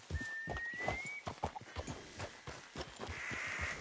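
A horse in the Red Dead Redemption 2 video game gives a high, drawn-out neigh near the start, over steady, rhythmic hoof clops that continue through the whole stretch at close range.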